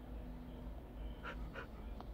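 A dog in the video game Minecraft gives a few short, faint whimpers, three soft high cries spaced about a third of a second apart, over a steady low in-game background hum.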